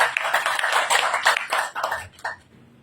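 An audience at an Indonesian customary-institution gathering claps hands together, a fairly close, uneven burst of applause that fades out near the end.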